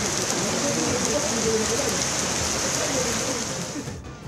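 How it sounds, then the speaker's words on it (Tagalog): Heavy rain pours steadily on Boracay island, a dense, loud, unbroken hiss that fades slightly at the very end. "nagbubo ang mabaskog nga ulan"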